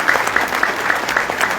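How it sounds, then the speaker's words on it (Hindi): An audience at a religious discourse gathering in Ghaziabad claps, a dense, steady round of applause from many hands throughout, heard fairly close. "मैं चाहूंगा उनके लिए जोरदार ताली आप सबकी तरफ से देना चाहिए।"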